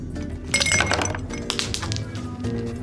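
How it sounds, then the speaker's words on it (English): Ice cubes clink and rattle against glass as they tumble into a tall glass, a bright cluster of chinks and knocks over a couple of seconds. "Fill a tall glass with ice"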